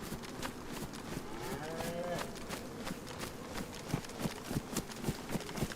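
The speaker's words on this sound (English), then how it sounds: "Ooh, cows." Cattle mooing in the video game DayZ, a few drawn-out low moos rising over a background of rhythmic footstep-like thuds and game ambience, moderately near.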